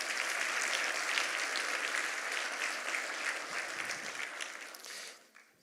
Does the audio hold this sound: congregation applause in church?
yes